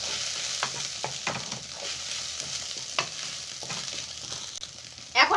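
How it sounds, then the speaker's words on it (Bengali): Egg fries and is mixed with vegetables in a pan for veg fried rice, with a continuous sizzle broken by repeated spatula scrapes and taps. A sharper burst of sizzling comes at the end. "আমি ডিমটা খুব ভালোভাবে ভেজে নেব।"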